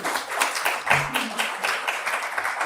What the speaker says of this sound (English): Can we please have a huge round of applause and welcome him on stage?